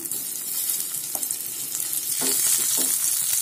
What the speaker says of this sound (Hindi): ये देखिए मैंने इसमें आलू को ले डाल दिया है अब इसे सेलो फ्राई करेंगे